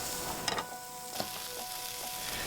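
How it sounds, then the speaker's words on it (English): Onions frying in smoking-hot sesame oil in a very hot wok give a steady, loud sizzle with a few faint clinks and stirring sounds on top. "When the pan is very hot and the oil is smoking, add the onions and cook for about a minute."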